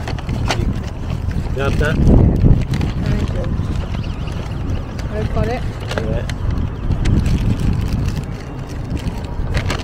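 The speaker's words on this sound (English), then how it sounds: "A bit windy out here. Very windy." Gusty wind buffets the microphone with low rumbling bursts while people talk nearby outdoors.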